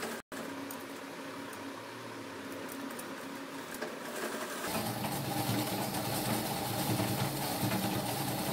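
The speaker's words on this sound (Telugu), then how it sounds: "తర్వాత సెకండ్ స్టిచ్ కూడా వేసేసుకుంటాము." A sewing machine hums steadily while stitching fabric for a kids' designer crop top, close and continuous, growing slightly louder and busier partway through.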